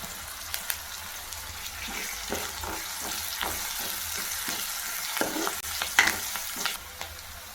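Onions and curry leaves fry in hot oil with a steady sizzle, broken by scattered stirring scrapes and clinks from a spoon in the pan, fairly quiet and close.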